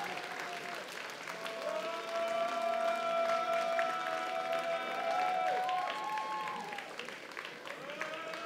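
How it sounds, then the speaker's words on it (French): A crowd at a cosplay contest applauds steadily for several seconds, a dense continuous patter of clapping with faint tonal music or background sound underneath and a voice briefly audible. "On l'applaudit"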